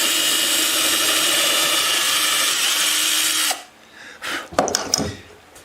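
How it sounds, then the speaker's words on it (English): A power drill drives a screw into mandolin wood, whirring loudly and steadily for several seconds before stopping, followed by a few light handling knocks and clicks. "I'm just going to put a screw in it to hold it for a clamp."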